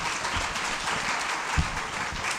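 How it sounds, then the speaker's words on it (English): Summit audience applauding steadily for a couple of seconds, a dense, even wash of many hands clapping in a hall, with no one speaking over it. "another round of applause"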